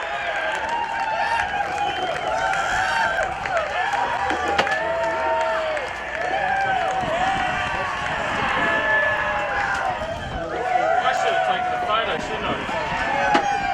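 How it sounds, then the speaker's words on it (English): Crowd clapping and cheering at a 2014 QAFL football grand final as a team leaves the field, a broad, steady wash of applause running under loud amplified announcer talk. "Again, a round of applause to Labrador as they leave the field."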